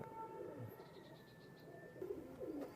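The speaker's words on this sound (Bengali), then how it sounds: "এটা ফ্লাইং টেডি কবুতর" An imported flying Teddy pigeon gives low, throaty coos in a couple of short rolling phrases, near but faint, with a thin tonal hum and light background noise and no talk.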